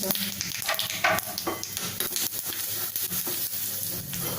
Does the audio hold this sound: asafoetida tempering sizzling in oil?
yes